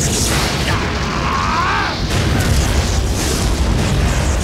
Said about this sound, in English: Most of the final hits just have a little explosion. This is a freaking Dragon Ball Z shot.